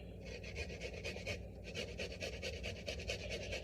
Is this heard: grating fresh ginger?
yes